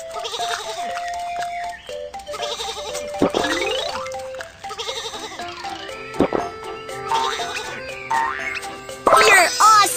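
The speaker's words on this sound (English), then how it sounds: "Some sheep are on the train track." Cartoon sheep bleat on a train track in a Baby Bus children's train game, several short, wavering bleats in a row among playful game sounds and a chime near the end.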